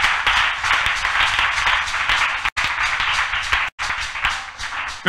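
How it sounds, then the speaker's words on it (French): A church congregation claps and applauds for the Holy Spirit during a worship service: loud, dense, continuous clapping with two brief breaks, and no speech. "Acclame très fort au Saint-Esprit."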